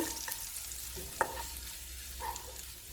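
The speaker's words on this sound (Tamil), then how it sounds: "எண்ணெய் நல்லா காஞ்சிடுச்சு பச்சை மிளகாய் சேர்த்து வதக்கணும்" Green chilies fry in hot oil for an egg omelette while being stirred, giving a steady soft sizzle broken by a few faint scraping clicks of the spoon against the pan.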